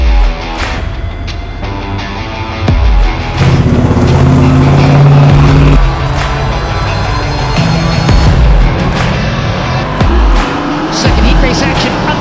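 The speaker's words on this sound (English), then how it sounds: "Second heat race action underway as Rico Abreu jumps to the early race lead." Sprint cars in a heat race roar around a dirt track, loud engines rising and falling continuously as the pack passes, with a few sharper revving surges.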